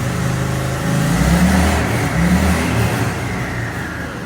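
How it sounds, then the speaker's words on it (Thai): A 1990 Honda Fusion 250cc scooter engine, restored, runs close by with a steady, even hum. The low drone swells briefly as if lightly revved, then settles back to a smooth idle. "เครื่องยนต์เดินดีนะครับ"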